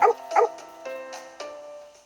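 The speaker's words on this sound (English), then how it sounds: "Sound like dogs barking." Mechanical dogs in the game Fate Grand Order give two quick sharp barks, then a few softer yips and whimpers fading off, clear and close with no talk over them.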